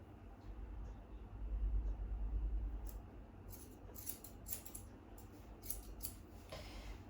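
Quick, quiet snipping of scissors through a dog's fur around the ear in clustered bursts, close up, over a low steady background rumble.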